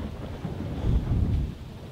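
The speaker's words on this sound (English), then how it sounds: "But I'm more concerned with this water that's falling from the sky right now." Rain falls steadily during a storm, heard as a dense wash with a low rumble that swells briefly in the middle, probably distant thunder, and some wind buffeting the microphone. No voices are heard.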